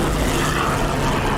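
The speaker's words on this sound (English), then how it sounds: "Completely auto-governed engine in the 109," A Bf-109K-4 fighter's auto-governed piston engine in the DCS World flight simulator drones steadily and loudly in the cockpit, a dense unbroken roar.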